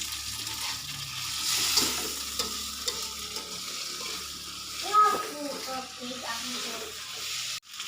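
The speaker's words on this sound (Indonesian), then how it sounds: "Lalu aduk terus hingga matang." A spicy tofu filling with bean sprouts fries in a pan, a soft continuous sizzle with scraping stirs and light clinks close up, briefly joined by a faint voice.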